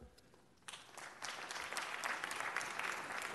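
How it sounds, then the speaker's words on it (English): Applause in the Los Angeles City Council chambers during a meeting, starting quietly then swelling into broad, sustained crowd clapping at moderate distance. "Let's give a warm round of applause for Mrs. Lily Thomas."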